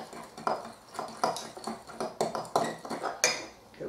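Pumpkin pie ingredients are mixed in a bowl, with a utensil clinking and scraping against the bowl in a quick, close, rhythmic series of taps.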